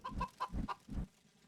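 Chicken clucking in a video game, three quick loud clucks in a row, then a quiet tail with no music behind it.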